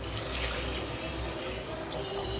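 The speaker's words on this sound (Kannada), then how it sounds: "ಕಾಳು ಮುಳುಗುವಷ್ಟು ನೀರು ಹಾಕಿದ್ದೀನಿ." Water pours steadily into a pot of oil-fried lentils during cooking of an Andhra-style lentil soup, a continuous close splashing and filling sound with no talk.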